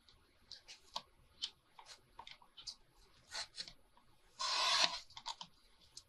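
Paper book page pockets trimmed by hand, a quiet run of small ticks and clicks from the cutting tool capped by one longer, brighter slicing sweep through the paper, all close and faint with no talking.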